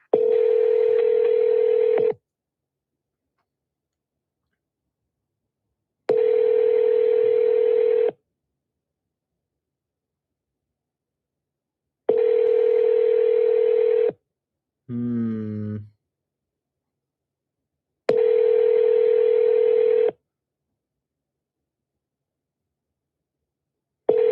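A transferred phone call ringing with no answer: long, even ring tones repeat in a steady on-off pattern with silent gaps between them. A short voice-like sound breaks in once between rings, and no one picks up.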